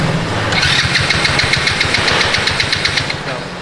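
ATV engine cranking and catching, a rapid rhythmic chugging that starts after a brief moment and holds steady at close range, loud throughout.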